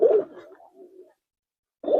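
Pigeons in a loft of Giribaz and high-flyer breeds give soft, low cooing. One burst opens, a fainter trailing coo follows, then silence before another coo starts at the end.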